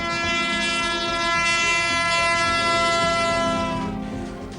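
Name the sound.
passing train with horn, Pakistan Railways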